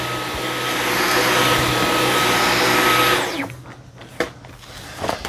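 A Dyson V15s Detect Submarine wet-dry vacuum runs loud and steady on carpet with a high motor whine, then powers down and winds off, leaving a few faint handling knocks.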